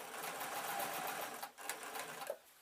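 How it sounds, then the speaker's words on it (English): A sewing machine runs steadily as it stitches fleece slipper pieces close to the edge, a continuous close whir with a brief pause and a few small clicks near the end. "I am sewing quite near to the edge."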